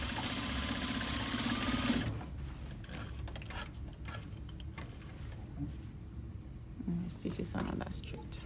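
A sewing machine stitches a shirt seam, a busy mechanical whir of the needle and gears running close, then pausing and restarting with clicks, while people talk quietly over it.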